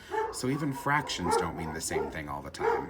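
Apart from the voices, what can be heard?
dogs barking downstairs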